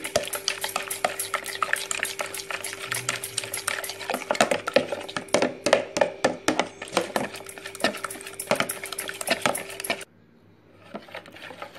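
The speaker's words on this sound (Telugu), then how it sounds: "మనం మొత్తాన్ని ఈ విధంగా బీట్ చేసుకోవాలి." Eggs being beaten by hand into a maida flour batter in a bowl, giving a steady run of rapid clicking, slapping strokes for about ten seconds before it stops and the room goes quiet.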